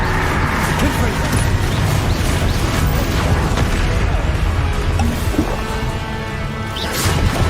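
Hogwarts Legacy combat with the Confringo fire spell, a series of booming blasts and crashing impacts layered over busy battle noise and spoken spell names throughout.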